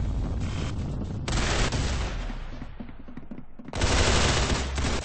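Gunfire from the online shooter game Arsenal crackles in dense, rapid bursts, loud and close, with a brief lull before another heavy volley erupts near the end.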